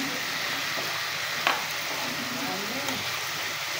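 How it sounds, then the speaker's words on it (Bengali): Chicken leg pieces frying in oil in a pan, a dense, even sizzle that runs steadily throughout with a faint clink or two, close up and without talk. "তো আমি প্রথমে লেগ পিসগুলো ভেজে নিচ্ছি।"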